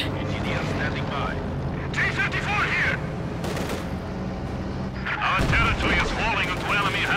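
Gunfire rattles through a Company of Heroes 2 battle, with bursts of machine-gun fire and heavier blasts against infantry under a commentator talking over the action.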